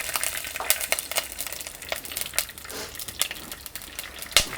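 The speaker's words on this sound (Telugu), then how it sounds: "నూనె వేడెక్కిన తర్వాత అర చెంచా ఆవాలు అర చెంచా జీలకర్ర వేసేసుకుందాం" Half a spoon each of mustard seeds and cumin hit two spoons of hot oil in a pot. Quick, sharp pops and crackles burst irregularly over a thin sizzle, loud and close, with no speech.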